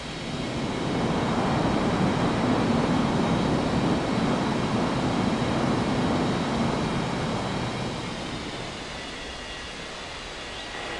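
A jet airliner in an air traffic control game roars steadily down the runway on takeoff from Springbrook International Airport, a loud broadband engine rumble that holds for most of the time and eases slightly near the end.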